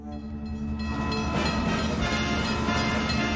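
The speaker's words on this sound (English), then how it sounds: "Do I get the train horn?" A train rumbles past close by, its loud horn droning in steady sustained tones over the rolling clatter of the cars, building quickly and holding full volume throughout.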